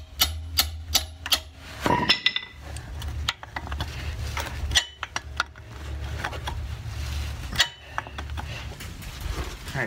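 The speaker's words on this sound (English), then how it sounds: "I'm just gonna hammer it down" Repeated metallic hammer strikes on a Jeep Grand Cherokee WK rear wheel hub ring out sharply at irregular intervals, with clanking and scraping of metal parts between blows.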